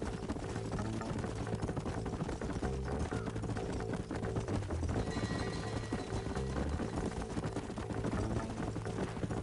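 Horse hooves clip-clop steadily in Red Dead Redemption, a busy rhythmic patter of riding horses buried in a dense, loud game mix with engine-like drone and ambient layers throughout.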